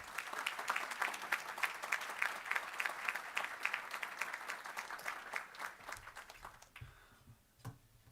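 Audience applause welcoming Eugene Scalia as luncheon speaker, a steady roomful of clapping for about seven seconds that fades out, followed by a couple of faint knocks.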